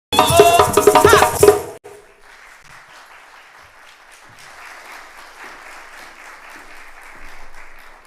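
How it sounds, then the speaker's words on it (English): An audience applauds the Tobago Performing Arts Company at a formal assembly, steady clapping from a crowd lasting several seconds after a short loud burst of music ends. "let us thank the members of the Tobago Performing Arts Company with another hearty round of applause"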